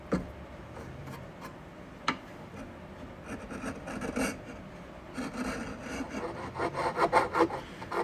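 A sharpened chisel pares a wooden tenon with soft, scraping, rasping strokes, close by and fairly quiet, with a few sharper ticks and the scraping growing busier toward the end.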